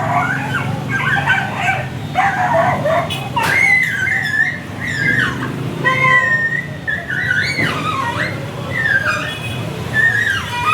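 Several street dogs bark, yip and whimper in an excited jumble, close by, over a steady background rumble with occasional voices.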